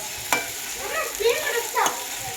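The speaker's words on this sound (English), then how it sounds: "Now mix the all ingredients." Egg fry ingredients are stirred together in a pan, brief scraping and mixing strokes over a faint sizzle, close and moderately loud, with a few soft voices nearby.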